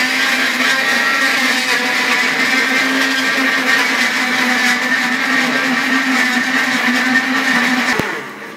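A blender runs continuously, whirring loud and steady as it purees a spicy paste with olive oil, then cuts off abruptly near the end.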